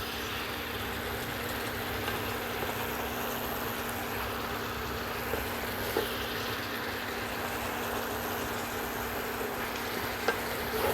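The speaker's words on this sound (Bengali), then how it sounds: "চিকেনের থেকে সবজির থেকে অনেক জল বেরিয়েছে এই জলেই সব সেদ্ধ হয়ে যাবে" Chicken and vegetables simmering in the water they have released, a steady low bubbling sizzle in the pot with no oil or spices, continuous and even with no talking.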